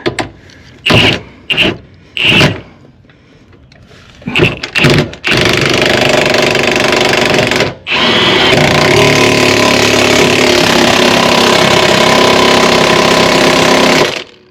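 An impact wrench tightens the lower control arm bolts on a 2006–2011 Chevy HHR, first in several short loud bursts, then in a long sustained hammering rattle that pauses briefly before continuing, close by.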